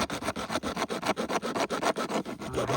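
A damaged pipeline is being sawn through with steady back-and-forth strokes, about a dozen in quick, even rhythm, loud and close, with no talking.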